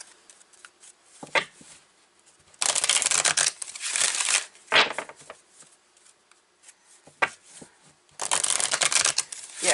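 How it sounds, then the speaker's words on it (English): Tarot cards from a Sufi Tarot deck shuffled by hand in several loud, close bursts of rapid riffling and flicking, broken by short quiet pauses. "So let's pick some more cards here."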